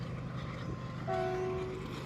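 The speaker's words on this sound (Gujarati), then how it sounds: "એક ગાડી માલગાડીની ટ્રેન જ નીકળે છે તમે જો એક ટ્રેન ગઈ ત્યાં બીજી" A freight train, a loaded goods train carrying tanker wagons, passes on the railway with a steady rolling rumble, and a brief horn tone sounds partway through.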